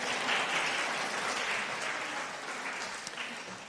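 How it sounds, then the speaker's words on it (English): A small room of people claps for Ruben in a steady round of applause that slowly fades toward the end, with no one speaking over it. "Round of applause for Ruben."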